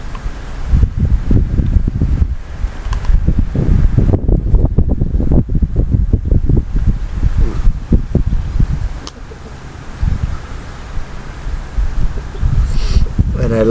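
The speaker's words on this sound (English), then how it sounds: "Now the wind is blowing" Strong wind blows outdoors in a winter garden during radish seed planting, buffeting the microphone in loud rumbling gusts that rise and ease, with no speech heard.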